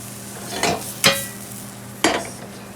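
Onions sauté in a pan, turning translucent while a spoon stirs them. A low sizzle runs underneath, and three distinct scraping strokes sound close by, spaced unevenly.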